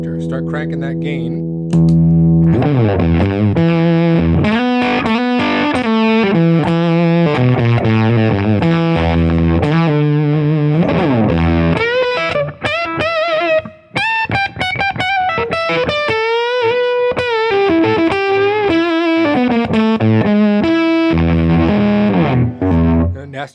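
Electric guitar driven hard through a JDM Vindicator germanium fuzz pedal with the gain cranked, a thick saturated tone ringing out in sustained chords, then busy riffs and bent lead lines, loud and close with a brief gap midway.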